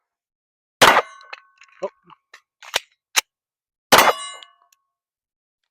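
Stealth Arms Platypus pistol fired at a steel target: two sharp shots with ringing metallic clangs, the first near 0.8 s and the second near 4 s, with small clicks and handling noises between them and a brief spoken exclamation.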